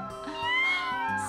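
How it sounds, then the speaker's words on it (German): Cartoon kittens give a short burst of high, overlapping meows, brief and fairly close, with no talking. "Das sind Titis bezaubernde Kätzchen."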